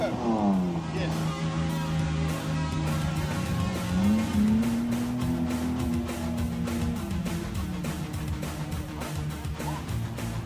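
A 4x4 bakkie in low range with locked front and rear differentials drives off through sand dunes at a competition, its engine droning and revving steadily, with people talking over it.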